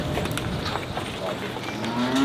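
Cattle mooing on a farm as they are brought in for hoof trimming, a low drawn-out moo rising near the end over steady outdoor background noise.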